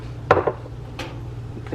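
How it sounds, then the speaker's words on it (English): A lid settles onto a slow cooker holding orange chicken: one clattering knock, then a second lighter clink a moment later, close and alone over a low steady hum. "put the lid on it"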